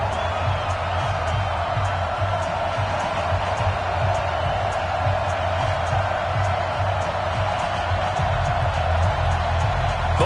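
A stadium crowd roars steadily in an EA Sports NFL football game between the Baltimore Ravens and New York Giants, a dense continuous wash of cheering and crowd noise with no breaks, moderately loud throughout.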